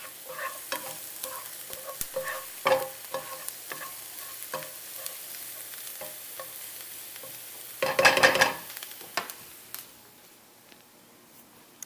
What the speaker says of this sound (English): we're going to put them in the skillet to fry them, just like you would like little baby pancakes or corn cakes